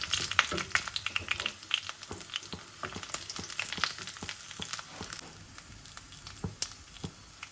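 Tempering of urad dal, chana dal, cumin and mustard seeds frying in hot oil, a quiet close sizzle with many small sharp pops and crackles, fairly soft and alone.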